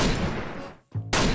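Gunfire in the mobile battle royale shooter Free Fire: a dense, loud burst of shots that cuts off abruptly into a brief gap, then resumes just as hard, close by with no voices over it.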